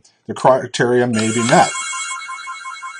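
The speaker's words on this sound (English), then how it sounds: "It's going to ring a couple more times before the answer machine picks up." A telephone rings steadily before an answering machine picks up, its sustained electronic tone starting under a man's speech and then carrying on alone, fairly loud and close.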